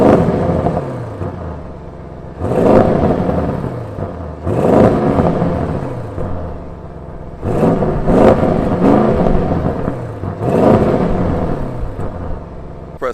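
A 2022 Audi RS7 in dynamic mode with its exhaust opened, revving loudly in four or five repeated bursts, each swelling and falling back to a rumbling idle between them, heard from close behind the car.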